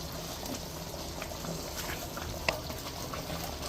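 Tamarind pulikaichal paste simmers in oil in a pot, a steady soft bubbling and faint sputtering hiss throughout with one small clink, no talking.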